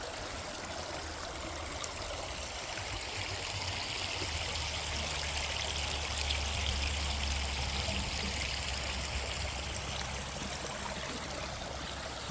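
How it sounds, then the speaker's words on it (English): A small creek runs over rocks on a winter hike, giving a steady close rush and trickle of flowing water with no talk over it. "A little creek."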